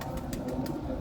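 A pigeon in a Lahore pigeon fancier's loft gives a short, soft, low coo, faint and close, with no talk.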